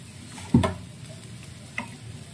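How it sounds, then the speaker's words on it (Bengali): Stirring chopped tomatoes frying in a pan over a low flame for a Bengali spinach dish, a soft steady sizzle broken by two scraping stirs, the first louder, close up with no talking. "তারপর কম ফ্লেমে আবার আস্তে আস্তে নাড়িয়ে চাড়িয়ে মিশিয়ে নিলাম"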